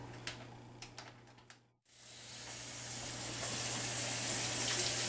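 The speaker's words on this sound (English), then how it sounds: "I'm going to rinse it once under cold running water" Cold tap water runs over a raw turkey being rinsed in a kitchen sink, a steady splashing rush that swells after a few faint knocks and a brief pause.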